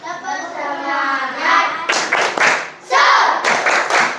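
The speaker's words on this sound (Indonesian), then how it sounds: "tepuk semangat dulu" A classroom of children doing a rhythmic spirit clap, bursts of loud unison hand claps in a patterned beat, with a brief pause partway through before the clapping resumes.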